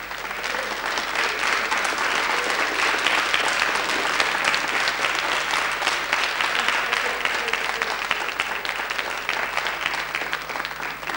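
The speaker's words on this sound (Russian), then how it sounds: "Аплодисменты прошу ваши." Audience applause at a Saratov TV ceremony for the Miss Press 1996 contest, a dense, steady clapping from a large crowd that holds at full strength throughout, with no speech over it.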